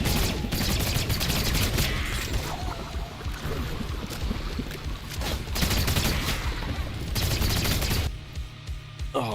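Rapid gunfire in the video game SULFUR, bursts of shots rattling over a dense, busy game backdrop, the firing shooting at fish in water and pausing briefly before a final quieter stretch.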